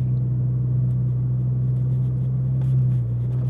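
A modified Honda Civic FC 1.5 turbo with a full 2.5-inch exhaust from the downpipe back and a Spoon N1 rear muffler idles with a steady, low, droning hum. The rumble holds constant and close throughout.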